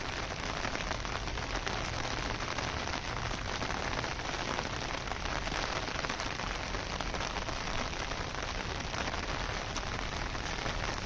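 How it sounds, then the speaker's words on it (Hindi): Heavy, cold rain pours down steadily, a dense even hiss of drops striking surfaces close by with no pauses and no voices. "बारिश बहुत ठंडी है इसमें।"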